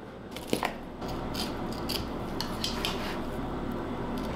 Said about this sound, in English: We're going to get a sharp knife, like the one I got right here. Put him on the cutting board. Get to filleting.